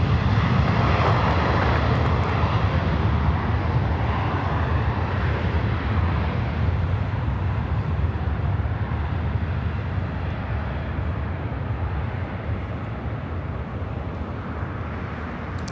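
Jet airliners roar at LAX airport in Los Angeles, a loud continuous engine rumble that swells and slowly fades as a plane passes close by, with no talk over it.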